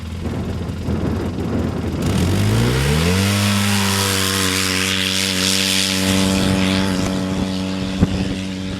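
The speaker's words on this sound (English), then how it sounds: "that is the new 2011 RZR S800 EFI" A 2011 Polaris RZR S800 EFI side-by-side, stock from the factory, revs up sharply after a couple of seconds and holds a loud, steady high-pitched engine drone, close by, with no talking.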